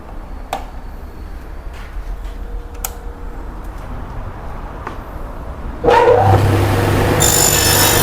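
A power saw cuts a wooden shelf off-cut to length after a few scattered taps and clicks, the blade roaring in loud and steady for the final couple of seconds.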